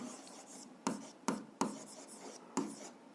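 Pen writing algebra equations by hand on paper, a soft continuous scratching with several sharper taps as strokes begin, close and quiet, no speech.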